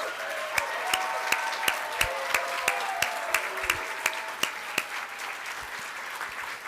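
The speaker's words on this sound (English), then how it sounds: "we just have to give her a huge round of applause" Steady applause from a seated audience at a Braille Challenge finals awards ceremony in 2024, with distinct individual claps standing out over a soft continuous patter, moderately distant and without speech.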